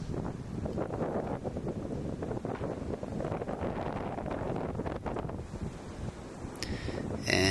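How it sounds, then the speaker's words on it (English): Strong wind gusts across a house roof under construction, a continuous loud rumble and buffeting against the microphone with rustling throughout. "We get a lot of wind up here."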